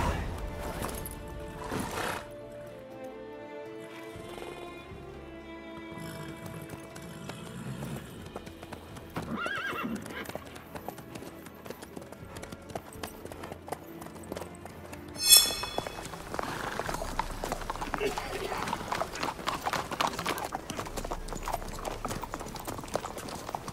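Horse hooves clip-clopping at a steady gait in The Witcher 3, with a horse whinnying, heard under background game music and ambience, with a brief loud thump midway.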